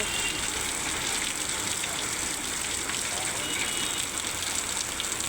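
Heavy rain pouring down in a dense, steady broadband roar, loud and close, with no break across the whole stretch.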